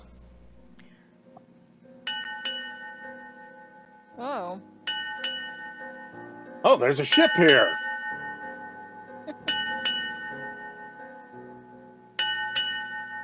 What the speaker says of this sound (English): As this bell keeps ringing out